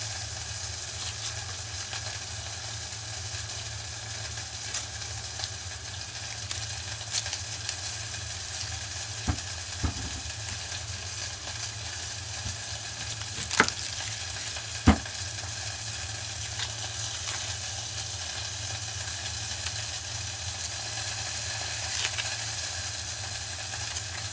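Onions sizzle and crackle in a hot pan while being stirred, a steady close frying hiss with occasional sharper scrapes and pops, no voices.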